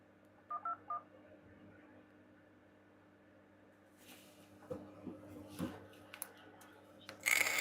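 Telephone keypad DTMF tones pressed while accessing voicemail, three short beeps near the start followed by quiet line hiss and scattered clicks and handling noise, with a faint voice briefly in the background.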